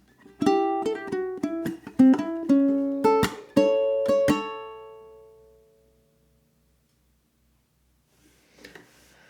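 Ukulele strums out a theme phrase: a run of short plucked and strummed hits, then a final chord left to ring and fade, followed by brief faint rustling near the end.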